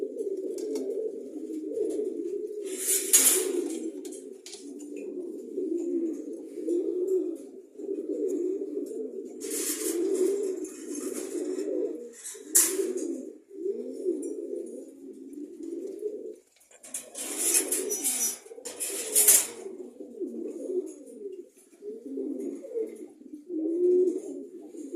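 Pigeons kept in a loft coo almost without a break, in low, throaty, rolling calls close by. Several birds overlap, and brief rustles and wing flutters come through now and then.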